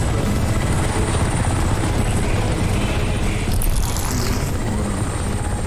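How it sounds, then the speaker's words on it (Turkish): A helicopter in the video game Crysis Remastered roars loud and close throughout, a dense, continuous rotor-and-engine wash with no pauses. "Biliyorum o helikopteri şu an devirmem gerekiyor ama hoş gitti."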